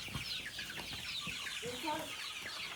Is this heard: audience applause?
no